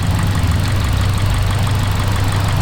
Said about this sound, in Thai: อย่างนี้นะครับ เครื่องยนต์ก็จะดรอปลง